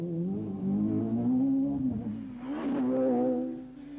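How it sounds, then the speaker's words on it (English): Renault rally car engine at the 1998 British Rally Championship, revving hard with wavering pitch that drops and surges as it scrabbles for traction, loud and close, no talk. "the Renault's engine notes showed how difficult it was to find traction"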